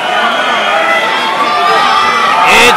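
A crowd at a boxing event in a ballroom cheers loudly and continuously, with whoops and shouts rising at the end, while a voice talks over it.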